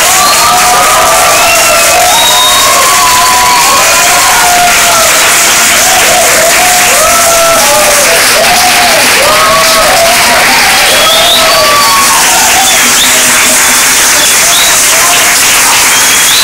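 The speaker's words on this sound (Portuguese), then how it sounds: "Jesus, uma salva de palmas, nosso Deus que é maravilhoso." A congregation at a church retreat gives loud, sustained applause for God, mixed with cheering and excited whoops and shouts, all at full volume throughout.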